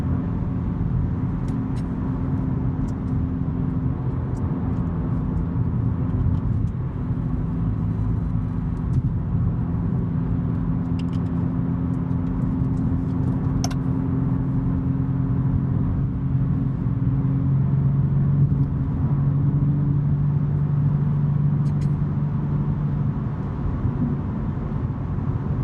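Interior of a BMW M3 creeping through Saturday-morning traffic, a steady low engine and road rumble with a faint drone throughout, occasional light clicks and no talking.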